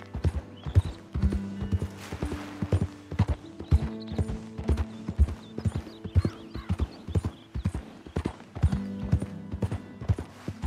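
A horse in Red Dead Redemption 2 gallops in first-person view, steady rhythmic clip-clop hoofbeats pounding close and clear, with a short whinny and soft game ambience behind.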